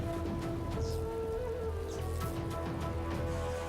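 Steady rain spell effect from the video game Divinity Original Sin 2, a continuous patter of falling drops over a low ambient game drone, even and moderately loud throughout with no talking.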